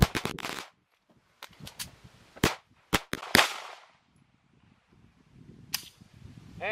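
Tisas BR9 pistol firing during an endurance test, several sharp, loud shots spaced irregularly with short quiet gaps and faint handling noise between them.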